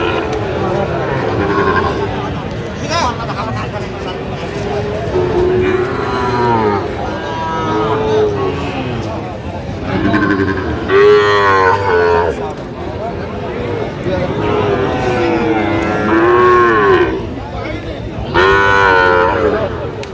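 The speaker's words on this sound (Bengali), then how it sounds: "যে গরুগুলো কিনছেন শাহাদত ভাই" Shahiwal bulls and bull calves moo repeatedly in long, wavering calls, loud and close, amid people talking in a busy cattle market crowd in Dhaka.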